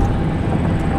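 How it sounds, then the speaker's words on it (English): Loaded eastbound oil freight train hauled by two locomotives rolls through the Dayton's Bluff area of St. Paul, a steady, loud, continuous rumble and wheel roar with no talking. "Here's 4486 and 4883 on a loaded oil train going east here through Dayton's Bluff area."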